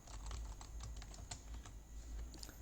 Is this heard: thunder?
no